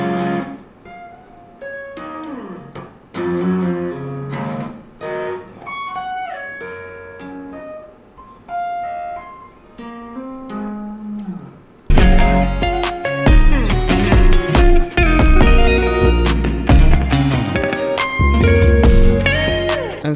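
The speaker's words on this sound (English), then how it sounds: "So in total, the first part is going to sound something like this." Electric guitar playing the first part of a riff, a quick run of tapped and hammered single notes that gives way to a louder, fuller, denser passage in the second half.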